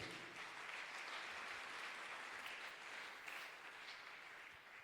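A church congregation applauds in praise during a worship service, a dense, steady wash of clapping from many hands that continues without pause, fairly faint and distant.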